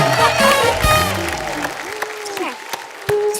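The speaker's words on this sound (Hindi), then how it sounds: "जोरदार तालियां नीतू जी के लिए।" Studio audience on a comedy talk show applauding to welcome a guest: a burst of clapping and crowd cheer under voices, thinning toward the end.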